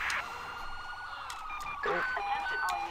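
A fire truck siren in the police game LSPDFR wails in rising and falling sweeps, loud and close behind, with short bursts of other game sounds over it.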